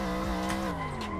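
Tires squeal and skid steadily under a droning engine as a car drifts through the Fujimi Kaido mountain road in Assetto Corsa, running on comp tires; a continuous, close, unbroken screech that lasts the whole moment.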